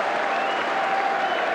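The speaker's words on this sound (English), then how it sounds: "the Manchester United players, in fact, are applauding Bailey for a truly brilliant save from a real rifling shot" Players and crowd applaud a brilliant save by the goalkeeper at a 1981-82 Arsenal versus Manchester United football match, heard as a steady, dense wash of clapping from a large stadium crowd with no voice over it.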